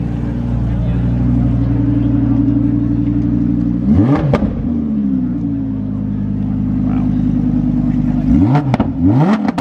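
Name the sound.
Lamborghini Huracan revving engine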